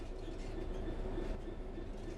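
A train runs on rails in the Train Sim World 3 video game, a steady low rumble of wheels and motor with faint rhythmic clicking, continuous and even throughout.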